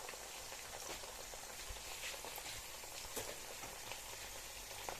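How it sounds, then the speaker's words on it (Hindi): Okra frying in a pan for a lady finger recipe, giving a steady, dense crackling sizzle that runs throughout like rain on a surface, with scattered small pops. "जब आप भिंडी फ्राई कर रहे हैं"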